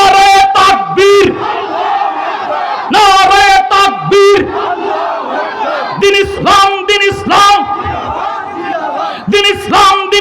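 A large crowd roars takbir together at a fiery Islamic sermon before an election, loud chanted shouts rising in repeated bursts with brief pauses between them, close and overwhelming.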